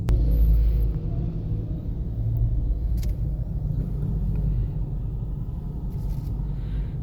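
Road traffic in Sipocot, Camarines Sur, heard from a vehicle on a road trip: continuous low engine and tyre rumble with a passing vehicle swelling briefly, fairly close and steady throughout.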